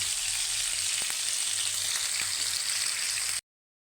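Fish sizzles as it fries in a pan of hot oil during home cooking, a steady, close, loud crackle with no voices over it.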